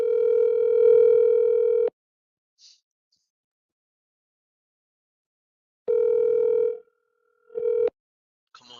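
A telephone ringback tone sounds while calling a sales lead. A long steady buzz is followed by a gap of silence, then another buzz that cuts off briefly and resumes.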